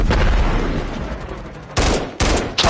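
Automatic weapon fire in a Call of Duty multiplayer match, a dense, loud continuous roar of rapid shots followed by two or three sharp bursts near the end.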